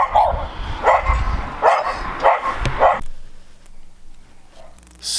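Several dogs bark in bursts of loud, close yips and woofs for about three seconds, then fall quiet apart from faint background noise.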